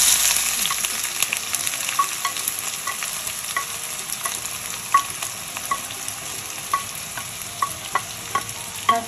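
Onions sizzling as they fry in hot oil for a dhaba-style daal mash, a continuous bright crackle with frequent stirring clicks and scrapes, close and steady, no talking.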